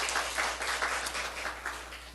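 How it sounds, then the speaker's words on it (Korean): A church congregation applauds in a dense, steady wash of clapping that stays even and fairly loud throughout, with no speech over it. "우리 하나님께 박수 올려드려요."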